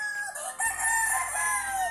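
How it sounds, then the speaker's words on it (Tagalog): A rooster crows loudly and close by in one drawn-out call, with a low hum underneath. "sobrang ingay ng manok dito sa amin talaga"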